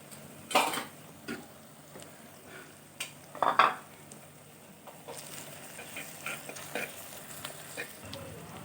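Ginger-garlic paste and green chilies fry quietly in a pan, a faint low sizzle with scattered spoon scrapes and a few louder clinks, close and unaccompanied by talk.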